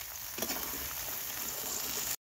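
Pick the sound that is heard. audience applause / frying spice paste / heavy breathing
frying spice paste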